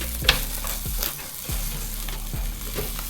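Jamaican jerk snapper sizzles over a high fire on a grill, a loud steady hiss broken by a few scraping clunks as the fish is flipped with a fork, no speech.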